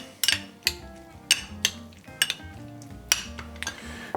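Sea bream tartare being stirred with pepper in a bowl, a utensil giving several sharp clinks and scrapes against the dish over low background music, with no talking.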